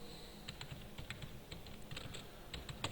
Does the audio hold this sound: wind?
no